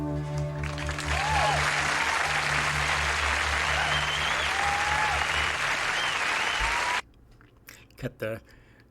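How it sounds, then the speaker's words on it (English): Concert crowd applause after a live performance, a loud, dense wash of clapping and cheering with low music tones underneath, cutting off abruptly, followed by a few brief quieter sounds. "Cut the crowd noise there."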